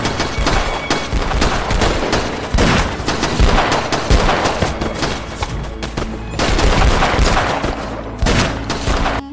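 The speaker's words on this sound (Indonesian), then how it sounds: "polisi menghujani mereka dengan tembakan dan membuat keduanya tewas di tempat" Dense, loud bursts of police gunfire in a film shootout, rapid overlapping shots like a fusillade with brief lulls and renewed volleys, close and forceful throughout.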